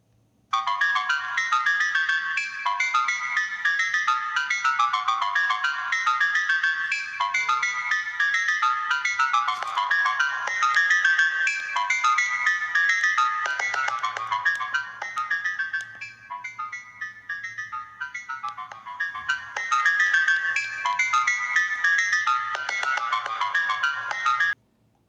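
Ringtone from the built-in speaker of a Bigme B7 color e-ink tablet with 4G calling, a bright repeating melodic phrase looping steadily and loudly for about 25 seconds with no talking.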